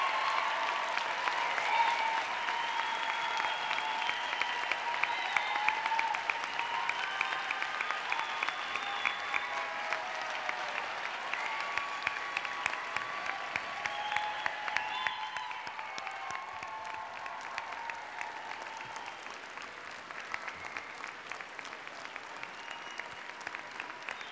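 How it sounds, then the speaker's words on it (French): Warm, sustained applause from a large audience at a university graduation ceremony greets new arts and communication bachelor's graduates, dense clapping holding steady for over twenty seconds before thinning slightly toward the end. "Applaudissons chaleureusement les nouveaux diplômés des baccalauréats de la faculté de communication et de la faculté des arts"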